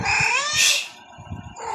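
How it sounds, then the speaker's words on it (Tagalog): A cat gives a drawn-out, rising meow up close, followed by a shorter, softer cry. "Hala pusa."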